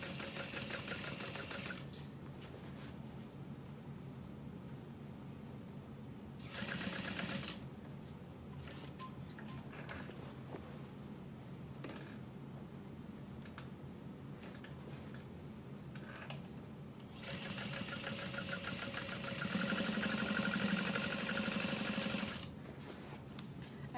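A home sewing machine stitches twice around the bottom of a fabric bucket bag, with close, steady whirring bursts of rapid needle ticking separated by quieter pauses and small handling sounds, no voice.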